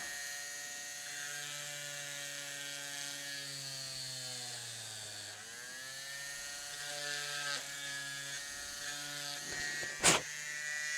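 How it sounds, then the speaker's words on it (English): Drill with a dull bit boring slowly into plastic, a steady whining motor drone with a buzzy grinding tone that dips in pitch midway, ending in a brief sharp crack near the end. "I think it doesn't really start drilling until the plastic gets hot and then it kind of melts."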